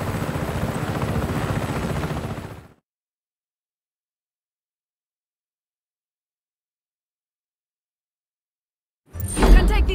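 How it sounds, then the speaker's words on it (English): Rotor noise from a helicopter in the video game Just Cause 3, a loud steady chopping roar that cuts out abruptly into silence for several seconds, then bursts back in strongly near the end. "You can take this chopper, Fratre."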